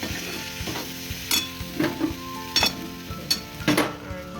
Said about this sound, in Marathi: आता व्यवस्थित मिक्स करून घ्या भाजीला